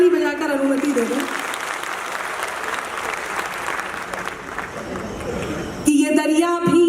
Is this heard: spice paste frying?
no